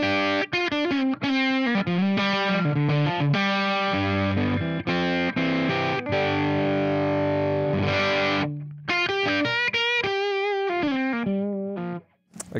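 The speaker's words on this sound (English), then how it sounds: "Here's the bridge pickup with a clean overdrive, clean boost." A PRS Private Stock David Grissom Signature electric guitar on the bridge pickup with a clean overdrive boost plays a riff of chords and single notes, slightly gritty but clear, with a brief pause before the last phrases.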